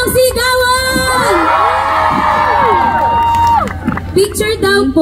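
A crowd of fans at a live idol fan event lets out a sustained, high-pitched collective scream and cheer, swelling and then fading, with voices calling out near the end.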